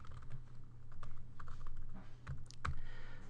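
Close, quiet tapping on a computer keyboard while writing a Go program, irregular soft keystrokes with a few louder clacks and no talking.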